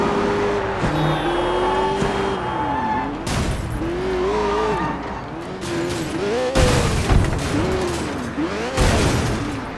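A car driven in the video game Sleeping Dogs Definitive Edition revs and whines through rising and falling engine pitch, with tire skids and sharp impact bursts, loud and busy throughout.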